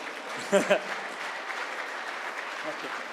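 An audience at a live celebration of Radiolab's 20th anniversary gives a soft, steady wash of applause that sounds distant. A brief voice rises over it near the start.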